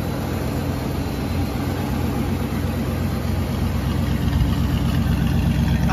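A 1982 Dodge W150 fire truck with a 318 engine and original Holley two-barrel carburetor idles steadily close by, a continuous low rumble holding even for the whole stretch with no voices.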